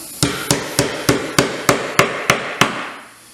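Steady hammer blows from a framing hammer ring out, about ten sharp strikes in an even rhythm, close and loud, driving 1 1/4 inch sinker nails into a wooden beehive frame with no talking.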